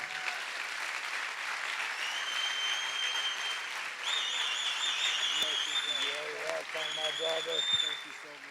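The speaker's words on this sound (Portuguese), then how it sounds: "recebessem com uma carinhosa salva de palmas a Jesus, a vida do meu amigo Emerson Ferrell" A congregation at a Portuguese-language church service applauds warmly in a steady, sustained wash of clapping that runs throughout, with some tonal cheering or whistling riding on top and a voice near the end.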